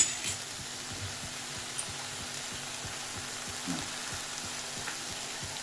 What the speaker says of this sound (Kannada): ಎಣ್ಣೆ ಹಾಕಿ ಈಗ ಎಣ್ಣೆ ಒಳಗನೆ ಮತ್ತಿಷ್ಟು ಕೆಂಪಾಗಿ ಕಡಕಾಗಿ ನಾವು ಇದಕ್ಕೆ ಫ್ರೈ ಮಾಡೋಣ